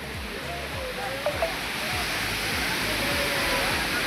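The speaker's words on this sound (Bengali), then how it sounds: "ঝর্ণাটা দেখো কত সুন্দর" Waterfall at Ayodhya Pahar in Purulia pours in a steady, broadband rush, close and continuous, with faint voices briefly underneath.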